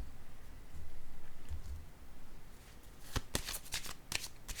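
Playing cards are shuffled in a quiet room, a soft riffle followed by a rapid series of crisp flicks as cards are drawn, close and clear with no talking.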